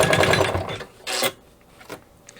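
A sewing machine stitches through a dense part of a zipper pouch in a short rapid burst, followed by a couple of brief separate mechanical clicks and pauses.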